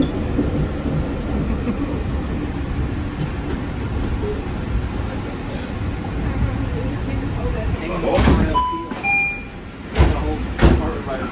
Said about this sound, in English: We got the whole monorail teal compartment to ourselves.